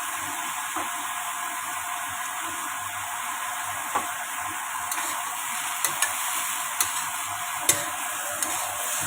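Chinese canton noodles and bean sprouts fry in a pan with a steady close sizzle, a spatula stirring through them and giving a few sharp scraping clicks.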